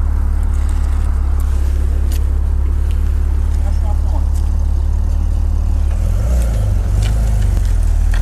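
An Alfa Romeo GT with a 3.2 V6 engine is driven at full throttle, giving a loud, steady engine drone that shifts in pitch near the end, with voices speaking over it.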